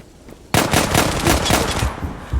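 Rapid automatic gunfire bursts suddenly and keeps going in a dense stream of shots in the online shooter game Zula, loud and close, then tails off briefly near the end.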